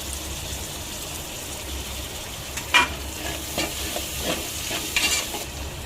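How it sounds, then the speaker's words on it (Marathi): Onion and tomato sautéing in a pan for dal khichdi, a steady close sizzle broken by several sharp spatula scrapes and clacks as the mixture is stirred, with no voices. "आता चांगलं परतून घ्यावं। तिथे कांदा छानपैकी परतून झालेला आहे"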